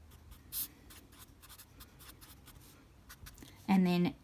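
A pen writing out a maths rule on paper, faint scratchy strokes in short bursts, with a brief louder rustle early on and a voice speaking near the end.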